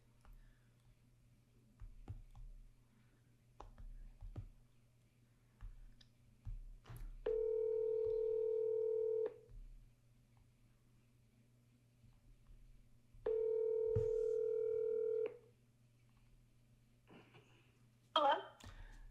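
Two long ringback tones, each about two seconds, sound while a secondary number is being called, amid quiet clicks and faint background hum, no voices over them.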